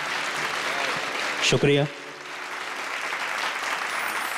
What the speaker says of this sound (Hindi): ये आपने तालियों के गड़गड़ाहट से देख लिया है